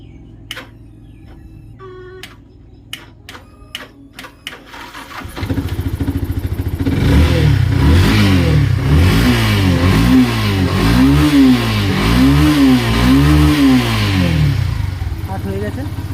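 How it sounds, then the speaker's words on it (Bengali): A Yamaha FZ v2 motorcycle with a starting problem and low fuel gives a few sharp clicks, then catches and runs close and loud, revving up and down in repeated swells. "দেখুন আমি গাড়িটাকে একবার স্টার্ট করি"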